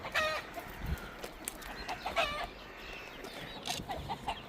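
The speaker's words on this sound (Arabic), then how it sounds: "خلينا نرجع نفتش اذا لسه بيه دجاج قديم وديوك نطالعهم برا" Chickens and roosters cluck in a coop, with scattered calls and short bursts overlapping at close range over a steady rustling background, and no talk.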